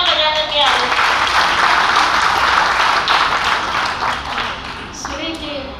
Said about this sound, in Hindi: तालियां बजा करके